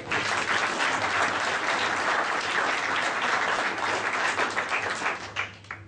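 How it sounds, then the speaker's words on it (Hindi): An audience claps together at a church sermon, a dense, steady burst of applause close by that holds for several seconds before thinning out at the end. "सब दो तालियां बजाएं।"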